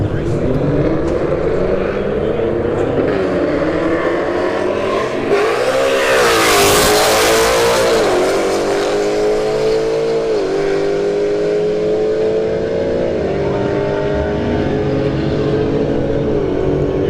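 Drag racing cars, a Golf and an S555, launch at a Bradenton Motorsports Park street test-and-tune night, their engines a loud, sustained roar that climbs and drops in pitch through gear changes.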